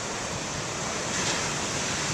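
Ocean waves break in a steady, loud wash of surf with wind, a broad continuous roar that swells slightly midway, with no voices.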